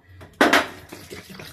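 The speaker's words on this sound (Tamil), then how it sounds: "இப்ப திட்டமா தண்ணி ஊத்திட்டுமா" Water is poured into rice in a pot in a short, splashing burst that then settles into faint trickling and sloshing.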